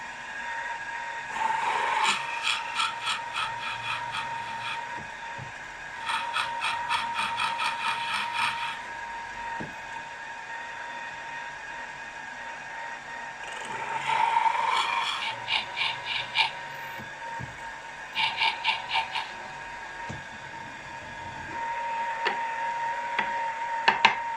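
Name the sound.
drilling holes in metal casting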